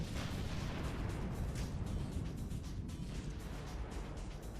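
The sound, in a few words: artillery fire in video game Sudden Strike 3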